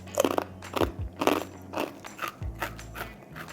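Crunchy IKEA rye and roasted pepper crackers are bitten and chewed up close, several sharp, brittle crunches followed by rhythmic crackly chewing with no talk.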